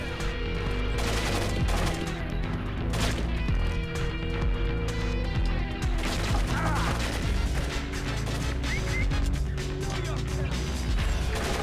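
Weapon alternate fire in the stealth shooter Tom Clancy's Splinter Cell: repeated sharp bursts and impacts crack through dense game music and ambience, with the player talking intermittently over the action.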